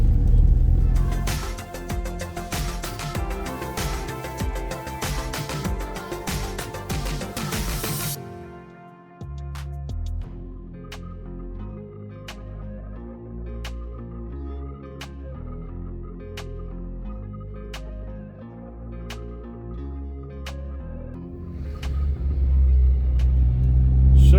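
A car drives along a road with a steady engine rumble throughout, a louder stretch at the start, then a dip and a smoother cruising hum inside the cabin, with no talk.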